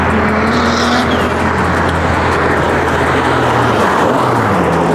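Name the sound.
car arriving fast, unable to stop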